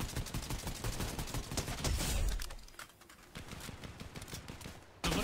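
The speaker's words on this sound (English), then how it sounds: "They're literally just fucking shooting the bot." Rapid gunfire rattles in a shooting video game as a bot is gunned down, dense bursts of shots running almost continuously with a brief lull before a final loud volley.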